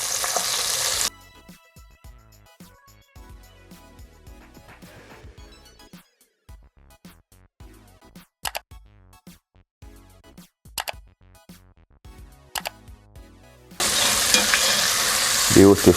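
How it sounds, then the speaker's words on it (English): Breaded shrimp go back into hot oil for a second fry: a loud burst of sizzling at the start, a quiet stretch of soft tones, then a strong sizzle roaring up again near the end. "In goes the shrimp again."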